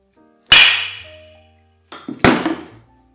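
A hammer strikes a crankshaft to true it, first one hard ringing blow, then after a pause a light tap followed by a second solid strike, each ringing out briefly in a quiet workshop.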